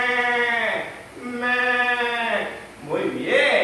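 A sheep bleats several times in a row, each call a loud, wavering, quavering bleat close to the microphone, with short pauses between them.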